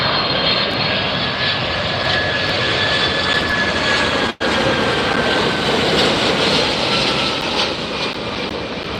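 An airliner landing at LAX roars loudly and steadily with a broad jet rush and whining engine tones, sustained for several seconds apart from a momentary dropout.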